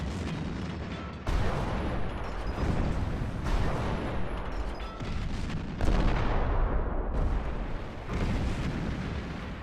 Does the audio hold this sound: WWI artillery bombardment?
yes